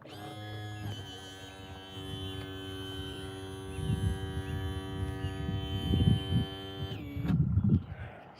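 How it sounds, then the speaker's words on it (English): A small bass fishing boat motor drones with a steady, buzzing hum that rises slightly and swells in rumble before cutting off near the end. "I'm gonna bump up my motor here."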